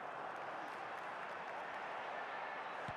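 Stadium crowd in an FC Mobile football match, a dense continuous roar of cheering and applause, steady and loud throughout with no clear breaks.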